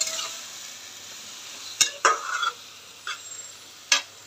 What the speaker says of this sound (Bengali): দেওয়ার পর কিছু সময় নাড়াচাড়া করে